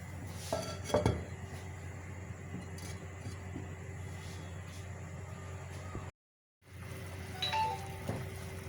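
A lid clanks shut on a village cooking pot of paya with whole garlic cloves, one metallic knock near the start over a low, steady kitchen hum, with a brief silent gap later.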